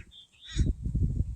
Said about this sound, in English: That's a crow. That's the one we've been talking to up in the tree.